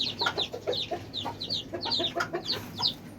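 Baby chicks, newly hatched, cheep in a dense, continuous chorus of high, rapid peeps while being moved into a small coop, close and lively with no talk.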